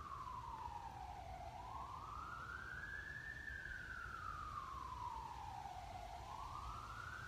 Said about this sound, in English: You can hear the sirens in the background there.